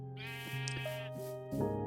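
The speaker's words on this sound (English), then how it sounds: "Hello, Mr. Sheep." Sheep bleating in the Minecraft video game: several clear, close, wavering bleats in quick succession, loud and alone without talk.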